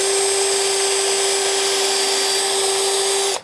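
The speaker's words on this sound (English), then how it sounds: "I'll pre-drill 2 holes." An old power drill pre-drills holes in wood for a greenhouse plant table, giving a loud, steady high whine that holds for about three seconds before cutting off abruptly.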